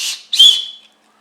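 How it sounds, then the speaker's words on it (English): A short, shrill blast from a survival kit emergency whistle, loud and close, sounding twice in quick succession before cutting off into silence. "Emergency whistle to alert people where you're at."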